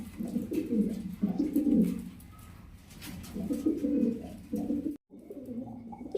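Pigeons coo in repeated low, throaty bursts, close by, with short pauses between phrases and a brief silent break near the end.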